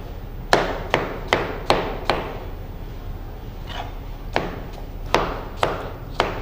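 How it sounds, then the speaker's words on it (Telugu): A knife chopping half an apple and half a guava into small pieces on a cutting board, with sharp, close, evenly spaced thuds in quick bursts separated by a brief pause. "ఇలా చిన్న చిన్న ముక్కలు కట్ చేసుకొని."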